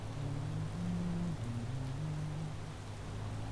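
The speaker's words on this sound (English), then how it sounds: "Oh, good. It's raining." Steady rain hiss from the weather in the space-building game Space Engineers, a continuous wash of noise over a low droning hum and shifting low tones, fairly quiet and unbroken with no talk.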